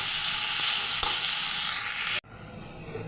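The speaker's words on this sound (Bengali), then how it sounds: "বেগুনগুলো ভালো করে ভেজে নেব" Eggplant pieces fry in a pan with a loud, bright, steady sizzle that cuts off abruptly, leaving quiet room tone.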